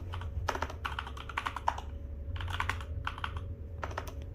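Typing on a computer keyboard while coding: quiet clusters of quick key clicks in irregular bursts with short pauses between them, close up over a low background hum.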